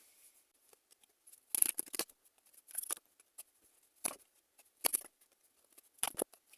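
Tarot cards being shuffled, several short crisp riffling bursts separated by quiet gaps, close and fairly soft, with no speech.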